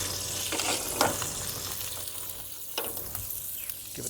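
Onion rings fry on a hot flat-top griddle with a constant close sizzle, occasional scrapes and taps of a spatula rising briefly over the hiss.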